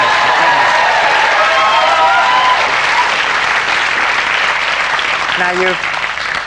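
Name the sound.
studio audience round of applause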